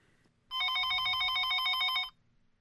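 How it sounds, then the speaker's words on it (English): A telephone rings on a nightstand in a bedroom, one loud, continuous electronic ring lasting about a second and a half, standing alone in a quiet room. "The phone began to ring on the nightstand."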